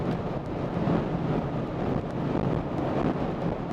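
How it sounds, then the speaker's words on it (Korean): Wind rushes around a Polestar 2 Dual Motor electric car as it speeds up on a foggy road, a steady broadband whoosh at moderate level with no engine note. "속도를 쭉 끌어올려서 바람 소리가 좀 커진다 싶으니까"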